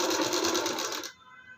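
A sewing machine stitches a sleeve into a blouse around the armhole curve, giving a brief close whirr with rapid even stitch pulses that cuts off abruptly after about a second.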